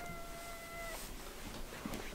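A cat meows softly a couple of times, faint and nearby, against a quiet background hum.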